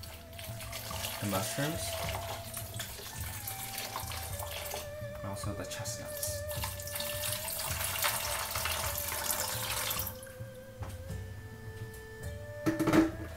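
Water runs from a kitchen tap to soak dried mushrooms and chestnuts for Chinese rice dumplings, a steady close splashing stream that continues under a person talking and then stops.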